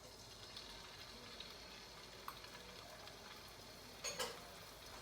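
Shrimp frying in a pan for fettuccine alfredo give a faint, steady sizzling hiss, with a short louder crackle near the end.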